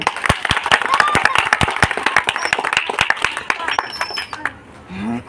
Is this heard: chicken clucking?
no